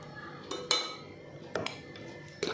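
A spoon clinks against a bowl while stirring, with several sharp metallic taps spread across a couple of seconds, close and fairly quiet.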